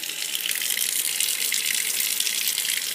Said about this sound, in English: going to run a little water in here, like so.